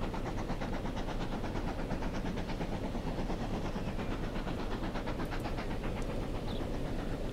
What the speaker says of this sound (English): He's going to pull in there, and there isn't a returning train.